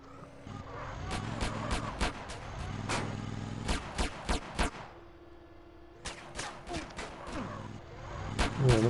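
Gunfire in the GTA San Andreas video game, with a train heist under way: bursts of rapid shots repeat in clusters over engine and vehicle noise.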